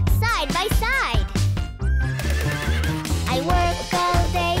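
A horse whinnies in a cheerful children's cowboy song, giving a couple of wavering neighs near the start over bouncy music and sung voices.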